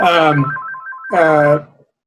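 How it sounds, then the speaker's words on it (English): An indoor telephone rings twice, each burst loud and close with a brief warbling gap between them before it falls silent. "Excuse the phone ringing. I'm just going to let it ring."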